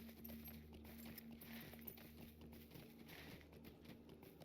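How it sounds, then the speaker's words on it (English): Horse hooves clop in a steady rhythmic gait with faint jingling tack while riding in Lord of the Rings Online, quiet and continuous over a low background hum. "Love the sound of the tack of the horse as I'm riding around as well."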